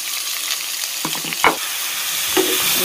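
Sliced onions fry in hot oil for chicken banki, a steady close sizzle with a few spoon stirs and knocks against the pan, and no voices.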